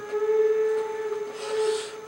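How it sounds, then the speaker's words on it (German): Steam train whistle, a sustained steady tonal blast with a breathy hiss of steam above it, fairly loud and alone for about two seconds. "Das ist der Zug."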